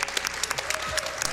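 A crowd at a video game speedrun event applauds, a dense, steady patter of many hands clapping at once, loud and sustained, with a voice faintly heard underneath.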